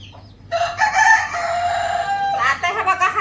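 A village rooster crows nearby in a long, loud cock-a-doodle-doo, followed by a few short clucks, with a faint hum in the background.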